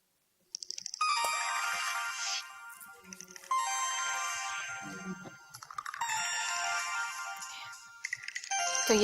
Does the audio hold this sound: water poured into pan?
no